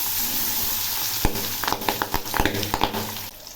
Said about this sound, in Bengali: এবার আমি বাকি দুটো ভেজে নিচ্ছি।